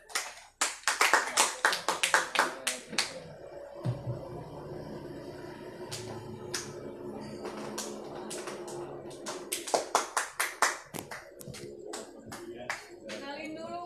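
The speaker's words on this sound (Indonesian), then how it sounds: "Baik, Kiai, Said, kita tepuk tangan." Scattered hand claps from a small audience at a poetry reading, a burst of separate sharp claps at the start and another toward the end, with talking in between.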